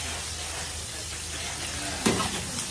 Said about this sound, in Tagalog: the oil is very good. Cholesterol free. And sibuyas, palabasin lang natin kanya rumasa.